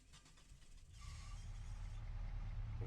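A heavy tractor engine turns over and catches, its low rumble building steadily louder over a few seconds.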